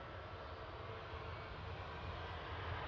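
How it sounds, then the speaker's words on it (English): A Ryanair Boeing 737 Max 8 jet rolls for take-off at Manchester Airport, a faint, distant, steady engine roar with a low rumble and no talk. "Ryanair on the roll to Malaga now"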